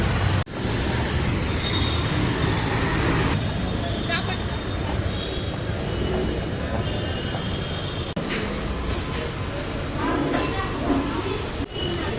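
Steady roar of nearby road traffic, vehicles rumbling past continuously, with a voice speaking over the din.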